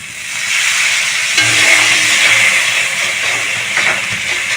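Masala with added water sizzling and bubbling in a pan for hilsa and potato curry as it is stirred: a loud, continuous frying hiss with soft scraping underneath, close by and without pauses.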